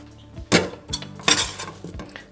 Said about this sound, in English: I'm going to place this on the stove and get this cooking.